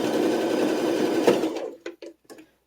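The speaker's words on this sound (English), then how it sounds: "I'm going to sew a little bit further and make sure that I actually caught both pieces of fabric" A sewing machine stitches through two pinned layers of fabric in a steady, close mechanical whir that stops after about a second and a half, followed by a few short, sharp handling clicks.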